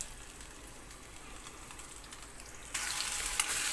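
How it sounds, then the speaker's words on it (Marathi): Onion, tomato and ginger-garlic paste sautéing in hot oil in a pan, a steady close sizzle that grows suddenly louder and brighter near the end, with no talking. "टोमॅटो चांगला मऊ शिजेपर्यंत परतू द्यायचा."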